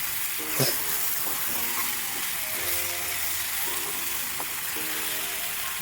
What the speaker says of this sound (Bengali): আগে থেকে সিদ্ধ করা পাস্তাগুলোকে দিয়ে দেব এখন কিছু সময় ভালোভাবে মিক্স করে নেব